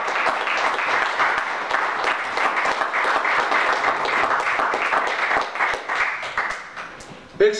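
Church congregation at a Pentecost service applauding strongly, a dense steady wash of many hands clapping for several seconds before thinning out near the end.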